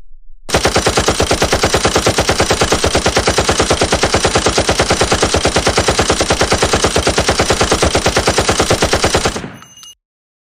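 Automatic weapon fire in a bank robbery short movie: one long, loud, rapid burst of evenly spaced shots lasting about nine seconds, then cutting off abruptly.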